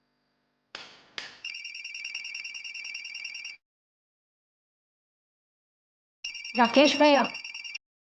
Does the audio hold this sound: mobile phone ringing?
yes